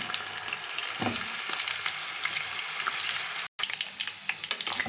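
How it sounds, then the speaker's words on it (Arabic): Potatoes fry in hot oil in a home kitchen, a continuous crackling sizzle with occasional bursts of spattering and a brief pause. "حطيت حبه زيت زي ما انتم شايفين كده، وهبتدي ان انا احمر البطاطس بتاعتنا دي"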